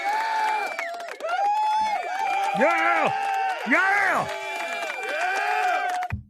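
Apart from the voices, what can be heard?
crowd applause and cheering in a played clip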